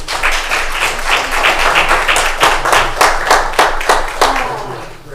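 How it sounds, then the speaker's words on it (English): A room claps for someone being congratulated at a county commissioners' meeting: steady, full applause from a modest crowd, close and fairly loud, with no talking. "Another round of applause."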